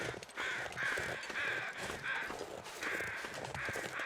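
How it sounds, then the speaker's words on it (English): Crows caw in the wilderness of The Long Dark, a series of about six harsh, repeated calls at a moderate distance, spaced roughly half a second apart over soft ambient noise. "What's up, crows?"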